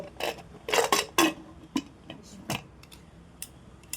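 A metal lid set down on a cooking pot of Peshawari namkeen gosht beef, giving several sharp clinks and taps close by, then a few lighter ticks in a quiet kitchen.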